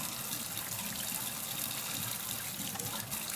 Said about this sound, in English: So now I am just merely turning my faucet on to hot water